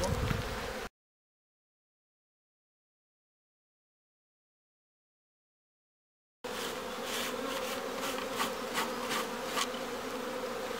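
Dense, steady buzzing of many honeybees close by at an open hive during a spring inspection, broken by a long stretch of silence before the swarm hum returns just as loud.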